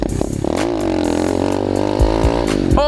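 A small pit bike engine revving hard during a wheelie, a buzzing high-rpm whine held steady with slight pitch swells, then a few thumping jolts near the end, close and loud.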